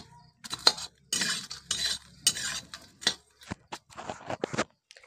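Marie biscuits fried and stirred in a pan for homemade cereal, a series of close scraping and clinking strokes of a utensil against the pan with soft sizzling between the bursts, no talking.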